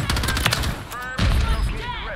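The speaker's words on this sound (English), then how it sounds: "Someone shooting a minigun up there, bro." Sustained rapid minigun fire in a Call of Duty match, loud and continuous with bursts layered over one another, along with other weapon noise in a busy firefight.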